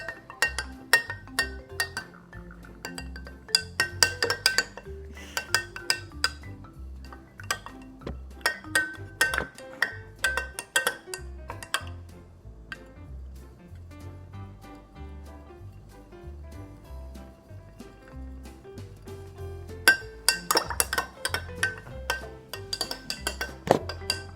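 A metal spoon stirs chocolate milk in a glass, giving repeated bright clinks against the sides in irregular bursts and quieter stretches in between, close and clear.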